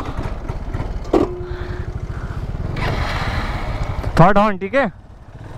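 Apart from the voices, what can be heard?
Aprilia SR150 scooter engine running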